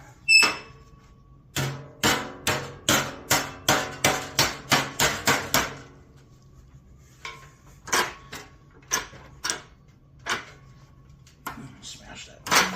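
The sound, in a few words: hammering sheet metal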